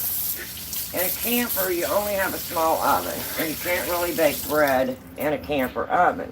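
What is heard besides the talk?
water running from a tap while rewashing hands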